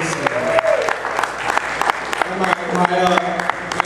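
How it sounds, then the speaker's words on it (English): An audience at a church concert applauds after a band's performance, a dense, continuous clapping with scattered cheers while someone speaks over it. "Give them a round of applause."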